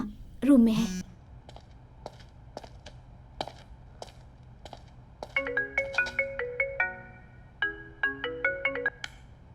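A phone rings in repeated bursts of electronic melody, following scattered taps and a short voice near the start.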